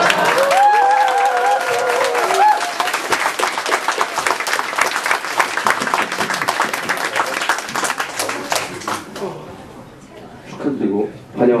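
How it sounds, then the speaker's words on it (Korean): Audience applause welcoming a new cohort of trainee reporters at a newsroom gathering, steady dense clapping that fills most of the stretch, then thins out near the end with a few stray claps and talk. "네, 박수 좀 쳐주세요"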